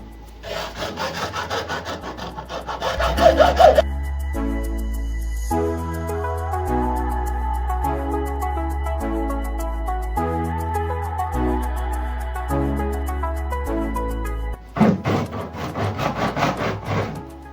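Hacksaw cutting through the cement filter of a household water purifier, rhythmic back-and-forth rasping strokes, close and moderately loud, with a quieter stretch of lighter scraping in the middle.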